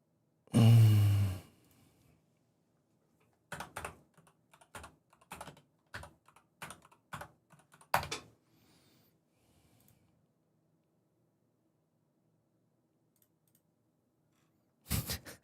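Computer keyboard typing comes in short separate clacks and brief bursts with quiet gaps between, close by. A loud breath or sigh is heard at the start.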